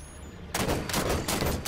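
DMR fire from Halo 5 comes as a sudden loud volley of rapid shots, close and dense, after a quiet start.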